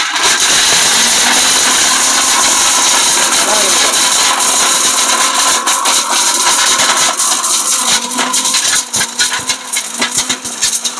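An Orpat stainless steel blender grinds pieces of turmeric into paste, a loud, close, continuous motor whine that roughens and stutters toward the end.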